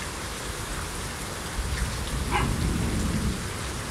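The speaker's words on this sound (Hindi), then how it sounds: "ये तो कितनी तेज़ बारिश आ रही है" Dense, steady rainfall pours down with a constant hiss, and a faint low rumble rises toward the end.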